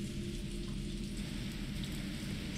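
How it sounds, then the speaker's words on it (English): Steady, heavy rain pours throughout in the video game Resident Evil 3, a dense continuous hiss with low rumble, even and unbroken. "It's raining cats and dogs up there."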